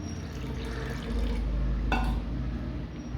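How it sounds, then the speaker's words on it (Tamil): Water pours steadily into a pot of tamarind masala for dried fish curry, a soft rushing splash that swells in the middle and then eases off, with no voices. "எவ்வளவு தேவையோ அந்த அளவு தண்ணி சேர்த்து இந்த புளி கரைசில் இந்த மசாலாவோடு ஆட் பண்ணிக்கலாம்"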